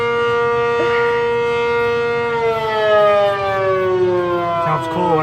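An ACA Cyclone 125 civil defense siren sounds a loud, sustained, rich wail during a test in Amarillo, Texas, its tone sliding slowly downward as the rotating horn sweeps past, with no talking.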